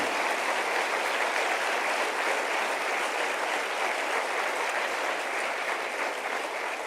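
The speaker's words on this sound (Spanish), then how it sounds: "Denle un aplauso al Señor" Steady, sustained applause from a large church congregation fills the whole stretch, dense and even without pause, with no talking over it.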